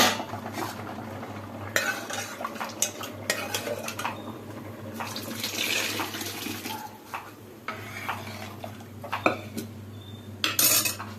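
A metal spoon scrapes and clinks in a pot as cooked dal is stirred into drumstick sambar, with irregular knocks and wet stirring over a low background hum.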